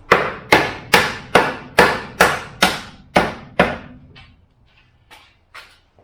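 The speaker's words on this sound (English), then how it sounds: "I get my copper hammer." A copper hammer strikes Jeep Grand Cherokee suspension parts in a steady series of about nine sharp, close blows, followed by a few fainter, more scattered taps.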